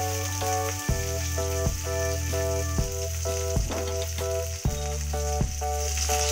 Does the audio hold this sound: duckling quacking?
no